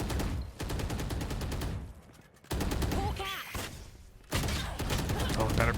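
Rapid gunfire in a Valorant tournament match, bursts of fast repeated shots in three volleys separated by short gaps, loud and close, with a caster's voice underneath.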